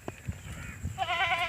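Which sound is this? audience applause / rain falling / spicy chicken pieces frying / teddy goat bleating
teddy goat bleating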